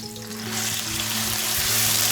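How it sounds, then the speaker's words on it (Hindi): Garlic and ginger sauté in hot oil in a preheated pan, giving a steady close sizzle that grows slightly louder, with no voices. "इसमें हम लहसुन अदरक हल्का सा सौते करेंगे।"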